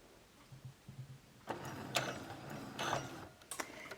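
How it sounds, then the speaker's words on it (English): A sewing machine makes a few forward stitches on felt, a short close burst of mechanical whirring and clicking that starts after a quiet moment and runs in uneven pulses for a couple of seconds. "I'm going to go forward just a couple stitches."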